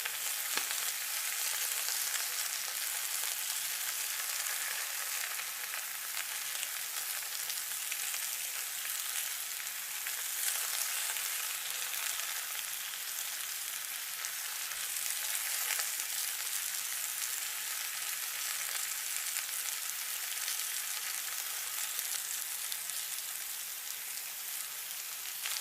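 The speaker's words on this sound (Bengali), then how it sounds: "শুধু বেগুনগুলো ডুবিয়ে নিয়ে ভাজা শুরু করে দিয়েছি।" Battered eggplant fritters frying in oil in a miniature kitchen, a steady, even crackling sizzle like light rain, held at a constant moderate level for a long stretch with no voices.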